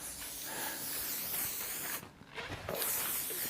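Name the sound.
silicone spray on fabric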